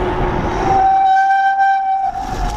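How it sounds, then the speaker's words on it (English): Disc brakes on a Surly Krampus bike squeal loudly for about two seconds, a sustained piercing tonal whine over rolling trail noise. "loud disc brakes."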